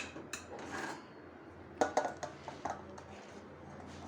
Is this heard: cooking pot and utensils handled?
yes